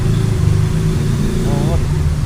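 A Honda VFR1200F motorcycle sits idling in the rain with its cooling fans running, a steady low engine hum and fan whir close to the mic, while someone talks over it.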